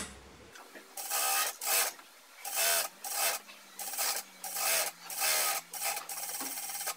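A sewing machine stitches piping onto the hem of pajama pants in short repeated bursts, about eight runs of rapid clatter separated by brief pauses, close up with a faint hum underneath.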